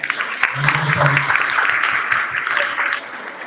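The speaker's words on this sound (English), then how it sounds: "Please give one more round of applause to the volunteering class." At a school graduation ceremony, an audience claps for the volunteering class, a moderate round of applause with a voice briefly heard over it, tapering off toward the end.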